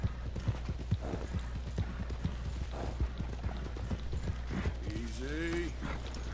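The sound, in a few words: horse hooves clip-clopping in a PS4 video game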